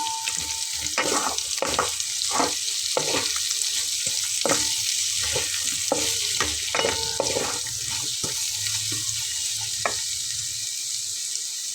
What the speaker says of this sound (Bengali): এখন আমি এর ভেতরে দিয়ে নেব পেঁয়াজ কুচি করে নেওয়া দিয়ে একসঙ্গে ভেজে নেব